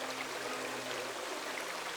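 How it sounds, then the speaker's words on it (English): Small waterfall with only a little water tumbling down a rocky descent, a steady close wash of trickling and splashing that runs without a break. "There's not much water coming over the falls,"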